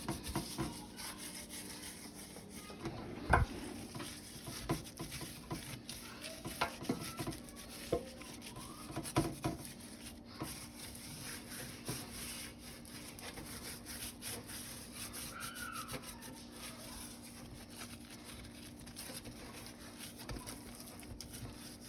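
Gloved hands rub seasoning into a raw pot roast, producing soft, steady rubbing and squishing with a few louder bumps, close by and without speech.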